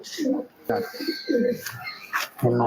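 Pigeons being held up for display give low, throaty coos close by, in short bursts between and under a person talking.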